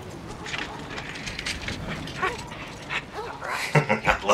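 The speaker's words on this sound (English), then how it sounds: "Oh, puppy!" A dog in the Mad Max video game barking, yipping and whimpering in short bursts that grow louder and more frequent toward the end, over game background noise.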